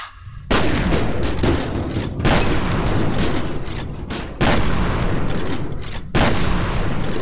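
Shotgun blasts in F.E.A.R. Perseus Mandate, four loud, sharp booming shots spaced a second or two apart, each with a long rumbling tail, no talking over them.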